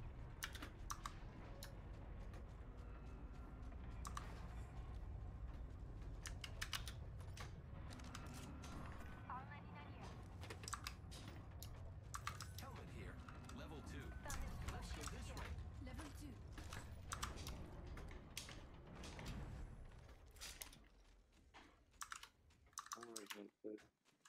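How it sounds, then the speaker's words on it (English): Rapid computer keyboard and mouse clicking during an Apex Legends gaming session, faint and busy, with irregular bursts of clicks under occasional game sounds and talking voices. "Y'all finna hear some clicking come out of me?"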